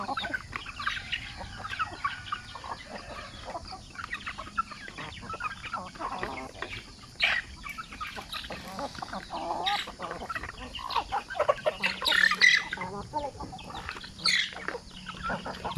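Native chickens cluck repeatedly over a steady farmyard background, with short bursts scattered throughout and a louder cluster near the end; faint voices are present at times.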